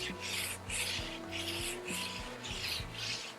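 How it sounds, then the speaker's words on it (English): An oiled paper towel is rubbed across a Blackstone griddle top in quiet, even back-and-forth strokes, about six soft swishing passes in a few seconds. "I'm just going to rub this on here."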